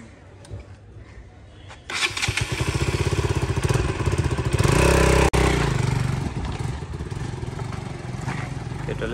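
A KTM Duke motorcycle fires up and revs hard through its silencer close by, a loud rapid clattering roar that climbs in a burst of throttle, dips briefly, then settles into a rough idle; speech is faintly present.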